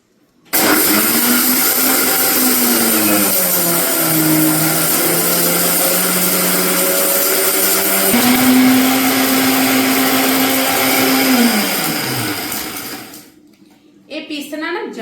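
A mixer grinder grinding ingredients for amla pickle at home, a loud continuous whirring motor whose pitch shifts as the load changes, then cuts off and restarts briefly near the end.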